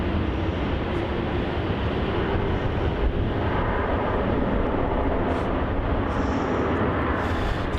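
A jet airliner rumbles steadily on the runway at Melbourne Airport, a constant loud low roar with a broad wash of engine noise throughout, no talking.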